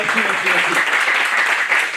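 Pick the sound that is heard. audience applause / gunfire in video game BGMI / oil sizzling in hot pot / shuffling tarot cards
audience applause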